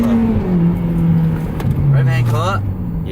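An Acura RSX engine revs with rising and falling pitch sweeps, close by, while voices chatter over it inside the car.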